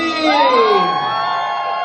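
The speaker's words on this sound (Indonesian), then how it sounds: "Jeritlah untuk Ana Domri." A crowd at a film premiere at GSC Mid Valley cheering and shouting together, a loud burst of whoops and screams that sustains and tapers off.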